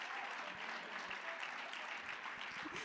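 Faint, steady clapping from a distant audience for a solo cosplay contestant at the Japan Impact 2025 convention, a soft continuous patter with a few low thumps.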